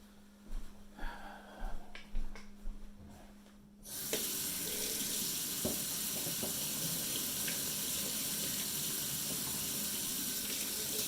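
A kitchen tap suddenly opens and runs steadily with warm water for bread dough, a constant close rush after a few quiet clicks and handling noises.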